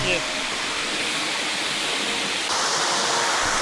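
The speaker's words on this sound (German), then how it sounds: "das ist ein normaler Bach, wie man ihn in der Schweiz in irgendeinem Scheißwald sehen kann" A small stream flowing through a forest, a steady, dense rush of water that fills the whole clip at an even, close level.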